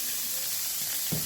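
Garlic and onion frying in rendered pork fat, a steady close hiss of sizzling oil throughout, with a soft thump near the end.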